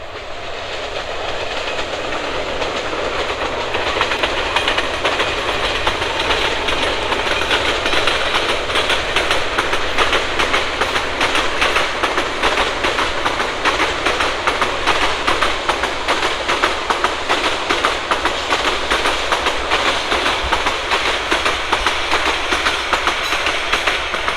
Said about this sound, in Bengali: ট্রেন চলে আসছে আমি যেটার জন্য অপেক্ষা করছিলাম